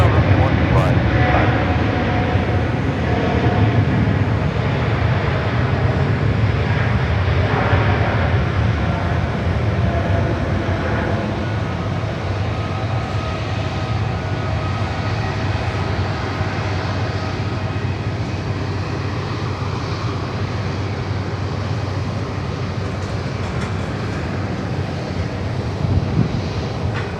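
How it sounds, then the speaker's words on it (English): Airliner rolling down the runway for takeoff at Sydney Airport, a steady, loud, broadband engine roar that holds throughout with wind buffeting the microphone. "Always quite a nice long takeoff roll"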